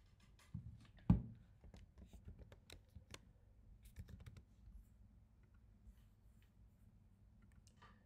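Login ID and password typed on a computer keyboard for a laboratory information system: faint, scattered keystroke clicks at an irregular pace, with one sharper tap near the start, in a quiet room.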